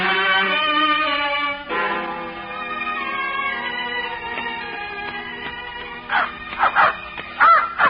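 A dog named Jacob riding in a cart gives a few short yips and whimpers near the end, heard over steady orchestral film music with no speech.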